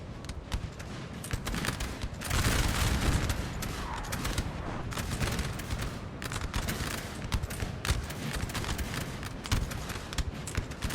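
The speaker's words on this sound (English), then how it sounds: "That was all from those guns there." Dense, continuous volleys of musket and cannon fire roll across a Napoleon Total War battlefield, crackling shots overlapping in a steady barrage with heavier booms surging around the middle.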